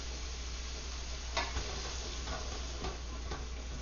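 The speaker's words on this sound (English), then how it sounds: "I gotta stir the pot again." Onions sizzle steadily in a pot while a utensil stirs them, scraping in a few brief bursts over the constant low frying hiss.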